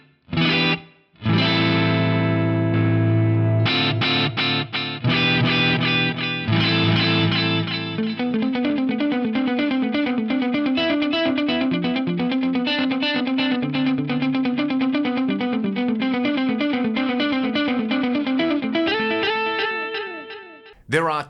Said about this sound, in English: on something like the standard delay time, will just put out the same delay time and phase on output A and output B